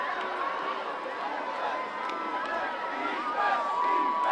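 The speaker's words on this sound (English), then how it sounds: "Crowd cheering for the defense" Crowd at a high school football game cheering for the defense, a continuous rowdy roar of voices and shouts that swells slightly toward the end.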